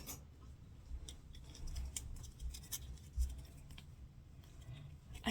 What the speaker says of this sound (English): little scissors.